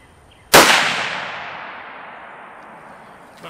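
Single loud rifle shot from a Savage Impulse firing 165 grain Remington Core-Lokt ammunition, a sharp crack followed by a long fading echo outdoors.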